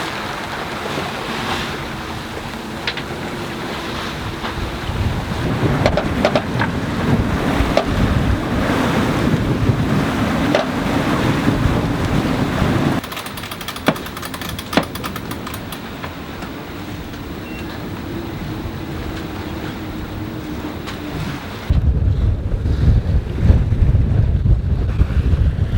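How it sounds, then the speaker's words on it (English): Gusty squall wind and breaking waves rush steadily around a sailboat at sea, a loud, continuous roar of wind buffeting the microphone over sloshing water, swelling and easing through the passage. "So I was going through a squall."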